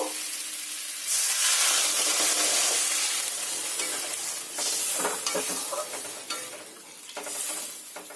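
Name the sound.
water added to spiced potatoes sizzling in pan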